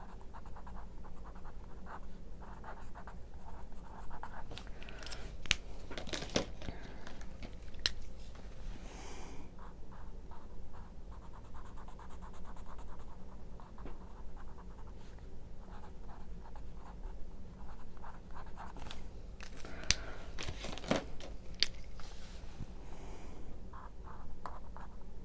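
Paper Mate Flair felt-tip pens scratch across paper in steady strokes, a soft close scraping that runs on and off with brief pauses between lines of writing.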